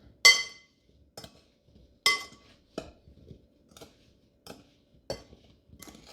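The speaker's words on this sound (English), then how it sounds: "we are just going to stir everything up." A spoon stirring a strawberry dessert mixture with vanilla, sugar and cornstarch in a bowl gives about seven clear clinks against the dish, spaced irregularly over several seconds, fairly close with no talk.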